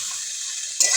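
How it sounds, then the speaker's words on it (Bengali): Cut eggplant and ripe tomato hitting a hot pan, a loud steady sizzle that flares sharply near the end as the vegetables drop in. "এবার দিয়ে দেবো কেটে রাখা বেগুন এবং পাকা টমেটো।"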